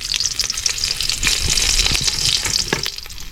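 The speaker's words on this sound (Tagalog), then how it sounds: "Magagisa po muna tayo ng bawang at sibuyas para masarap." Garlic and onion sauté in a hot pan, a steady close sizzle with scattered crackles and the clack of a utensil stirring through it, no talking.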